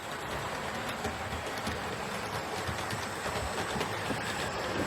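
A model steam locomotive running along a layout, a continuous close rumbling whir with light rail clicks, steady and unbroken throughout.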